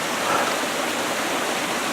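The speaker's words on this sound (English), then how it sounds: "Here it is. Here's the waterfall." A large concrete waterfall in Japanese woodland pours with a steady, dense hiss and rush of falling water, close and continuous with no voices.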